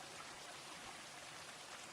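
Steady rain hisses in the block-building game Minetest, a soft, even wash of falling drops with no other sounds.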